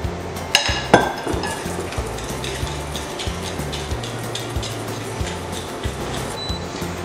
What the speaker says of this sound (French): Et pareil, je vais bien mélanger pour blanchir le tout.